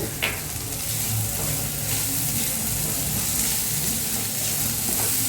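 Mutton spleen sizzling and frying steadily in a pan, a continuous close hiss with a brief stir or clink near the start, no talk.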